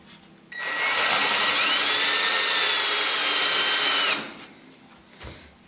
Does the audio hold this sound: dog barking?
no